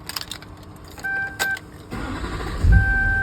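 A Viper aftermarket alarm fitted to a 2004 GMC 2500 HD pickup gives short electronic chirps and beeps on unlock, alongside clicks and a brief mechanical whir from the truck.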